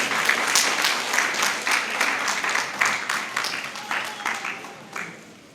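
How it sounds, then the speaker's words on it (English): An audience applauds at a book launch, a steady round of clapping for the author that stays strong and then gradually thins and fades toward the end. "Please, another round of applause for the lady."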